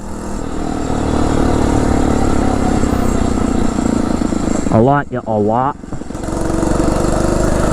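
Phatmoto motorized bike engine with its stock exhaust running on a paved loop, a loud, buzzy, continuous small-engine drone, close by, dipping briefly while a person speaks a few words.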